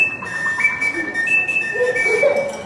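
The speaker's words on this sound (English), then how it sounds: "It's called the Oscar Mayer weenie whistle." A novelty hot dog–shaped Oscar Mayer weenie whistle is blown in short, bright, close tonal blasts, several wavering notes in quick succession with brief gaps, heard alone.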